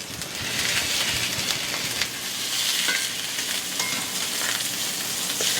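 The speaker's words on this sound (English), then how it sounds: "We're going to place these in our skillet, and we're going to sear them on each side for 2 to 3 minutes." Pork chops sear in a hot skillet with a continuous, bright sizzle and crackle, fat spitting in small irregular pops over a steady frying hiss.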